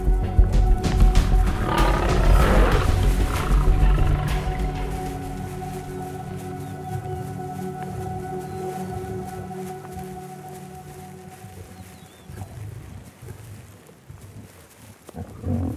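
A male lion in an African pride roars lustily, a deep, loud, rumbling series of bellows that is strongest early on and gradually fades to quieter grunting near the end.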